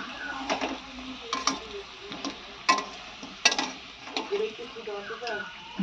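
Potatoes frying in oil until reddish-brown give a soft background sizzle, punctuated by irregular clinks and scrapes of a spatula against the pan.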